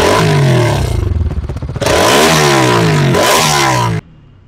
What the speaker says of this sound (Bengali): তো তোমরা শুনেই নিলে নতুন NS এর এক্সস্ট নোটটা, আওয়াজ বেশ ভালো।